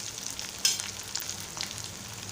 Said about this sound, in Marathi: मी आहे एक उकडलेला बटाटा घालत आहे